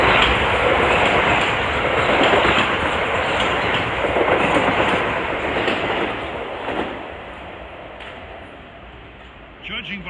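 Metro-North commuter train running on the Harlem Line, inbound Stamford to Grand Central equipment, rumbling past loud and close with steady rail clatter for most of the clip before easing off near the end.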